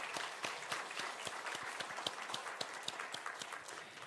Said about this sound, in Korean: 환영하는 마음 담아서 박수 한번 하겠습니다.